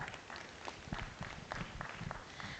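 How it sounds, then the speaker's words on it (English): Audience applause for young exhibitors at a junior and open Boer goat show at the National Western Stock Show, a steady patter of scattered clapping from a moderate crowd lasting throughout. "Let's give these young people a round of applause."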